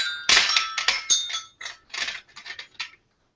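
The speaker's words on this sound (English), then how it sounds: "she's hitting it with the end of the bell." A small bell is struck repeatedly with its own end, giving a quick run of bright, ringing dings at an uneven rhythm, close and clear, fading to silence.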